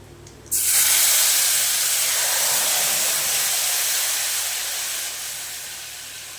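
Ginger, cumin, turmeric and whole chilli paste sizzling in hot oil for a cabbage curry, a sudden loud steady hiss that starts abruptly and holds, fading slightly toward the end, with no talking.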